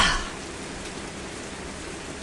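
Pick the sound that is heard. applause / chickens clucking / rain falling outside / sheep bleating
rain falling outside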